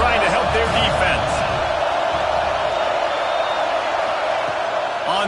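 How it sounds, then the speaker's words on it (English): A stadium crowd roars through a Wisconsin vs Arkansas college football game while the defense is on the field, as a loud, sustained wall of noise that holds steady throughout. "Listen to this crowd just shaking the girders of this place, trying to help their defense."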